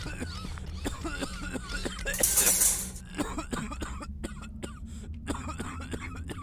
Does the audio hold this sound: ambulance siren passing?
no